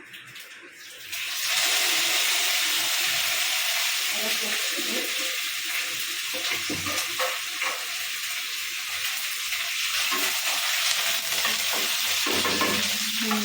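Crab and curry leaves frying in a pan for crab curry, a loud steady sizzle that bursts in suddenly and keeps going with faint stirring scrapes.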